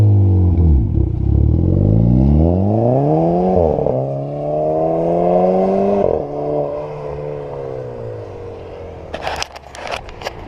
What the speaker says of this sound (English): Let's hear some exhaust sounds.